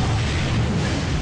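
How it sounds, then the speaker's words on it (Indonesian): A loud, sustained blast roars in the Dynasty Warriors game as an explosion blows away enemies nearby, a dense rumbling burst filling the whole moment with no voices over it. "Buat percikan sampai meledakkan orang sekitar"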